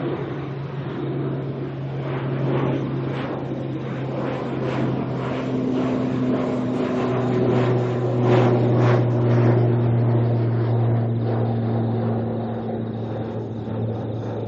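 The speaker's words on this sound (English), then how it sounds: "Alright, another ATR heading out." ATR turboprop airliner departing Auckland Airport, heard at a distance as a steady droning propeller hum with tonal whine that swells slightly as it passes, continuous throughout with no talk.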